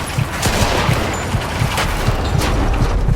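Rapid machine gun fire from a balcony emplacement in a Mafia 2 shootout, loud and sustained bursts of close rattling shots over a dense battle din.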